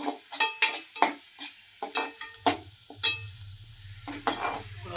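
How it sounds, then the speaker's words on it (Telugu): Chili powder frying in a pan, with a steady sizzle and repeated sharp scraping strokes of a spoon stirring against the metal, close and fairly loud. "కారము మొత్తం ఇలా ఫ్రై చేసుకోవాలి"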